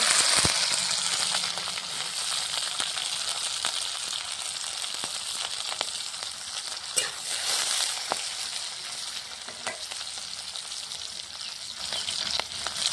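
Green chilies dropped into hot oil with panch phoron tempering sizzle and crackle steadily and loudly up close, a continuous bright frying hiss with scattered sharp pops throughout.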